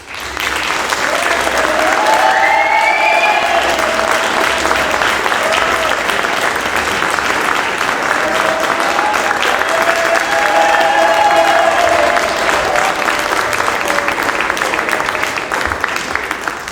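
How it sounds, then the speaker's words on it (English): A theatre audience breaks into sustained, loud applause mixed with scattered cheers and whoops, filling the room steadily from start to finish as a guest performer is welcomed onstage. "I can tell from the applause and cheers"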